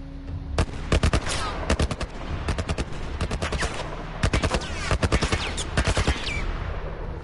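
Rapid bursts of heavy gunfire from a giant tank in The Last of Us on Grounded mode, loud clustered volleys of shots repeating in quick rhythmic groups with short pauses between, no talking.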